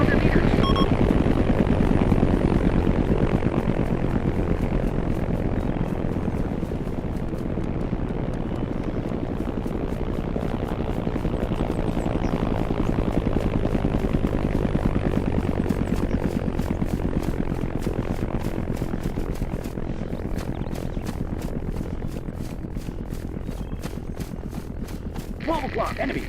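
An enemy Black Hawk helicopter in the video game ArmA produces a sustained rotor and engine drone, fairly loud and steady, with a faint rapid ticking flutter later on.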